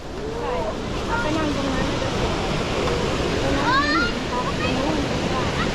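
Water cascading down Huai Luang waterfall, a steady broadband rush filling the scene continuously, with someone talking over the flow throughout.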